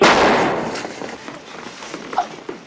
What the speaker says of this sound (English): You want her to interrupt it somehow, and she does so with a gunshot.